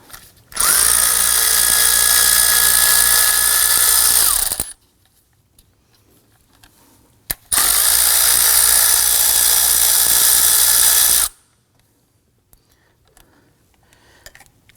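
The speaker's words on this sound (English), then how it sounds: "we use our 8mm socket to loosen and remove these two bolts" A power tool with an 8mm socket loosens and removes two bolts on a Volvo XC90 engine bay, two loud, close whirring bursts of several seconds each separated by a quiet pause.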